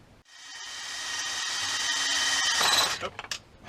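A power drill whirs steadily for about three seconds into a bolt on a motorcycle ignition barrel, close and loud, rising slightly before winding down into a few short bursts.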